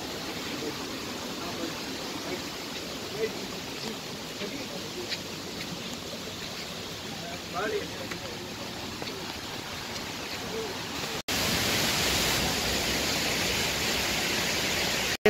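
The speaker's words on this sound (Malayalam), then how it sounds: "ആ വെള്ളത്തിൻ്റെ സൗണ്ട് ഒരു ഭയങ്കര രസമാണ് കേൾക്കാം." Flowing river water at Ezhattumukham gives a steady, broad rushing wash throughout, nearby and continuous, growing noticeably louder and brighter for the last few seconds with no voices present.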